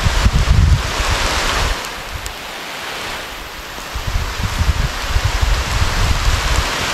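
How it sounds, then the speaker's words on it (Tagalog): Heavy, steady rain pours down on a bean field, a dense broadband hiss with gusty wind buffeting the microphone, loudest at the start, easing briefly, then building again. "Yung lakas pa rin po ng ulan."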